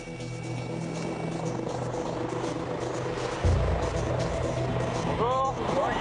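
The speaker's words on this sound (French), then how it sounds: "L'hélicoptère se pose dans un champ, à quelques mètres du lieu de l'accident." Medical helicopter touching down in a field near an accident site, a steady loud rotor and engine roar that holds throughout and deepens with a low thump partway through, heard close with other noise mixed in.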